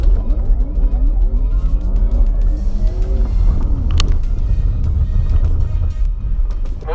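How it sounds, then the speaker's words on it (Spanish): Porsche Taycan electric car launching hard under launch control, a close rising whine that climbs steadily in pitch over heavy road and wind rumble, loud and continuous with no voices. "ponemos el pie en el freno, acelerador a fondo, y una vez él nos indique control de lanzamiento activo, tenemos 5 segundos para salir disparados"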